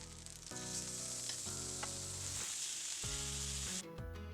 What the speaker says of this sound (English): To the griddle, I am adding just a bit of butter, unsalted butter, and I'm adding the seasoned beef.